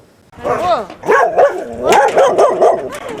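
A stray dog barks repeatedly outside a house in a yard, with sharp close barks and yips that come in quick bursts, loud and near, along with whimpery tones.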